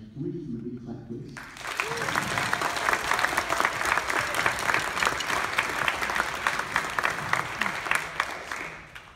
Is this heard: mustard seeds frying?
no